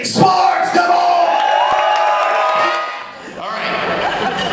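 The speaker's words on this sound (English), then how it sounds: "really put your hands together for Tommy Sparks" A comedy club crowd at the Havana Club in Texas cheers, whoops and applauds steadily for a comedian, loud and close, dipping briefly before surging again.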